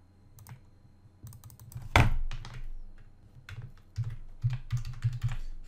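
Computer keyboard keys tapped in short bursts while renaming a page, with clustered clicks and brief pauses, fairly close and moderately quiet, alone without talk.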